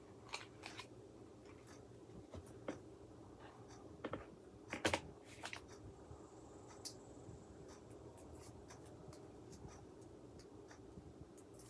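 Scissors cutting scrapbook paper in half, a few quiet, short snips and rustles near the start and middle over a faint room hum, with no talking.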